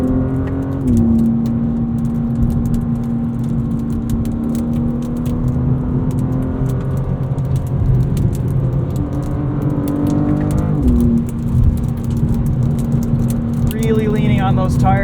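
A 2026 BMW M2 CS engine hums steadily and rises and falls with throttle through a high-speed corner, loud in the cabin, with gear shifts and someone talking over it.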